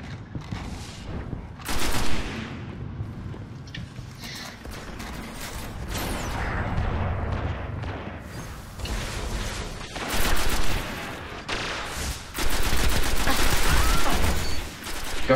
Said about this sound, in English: That's how you headshot with the auto rifle.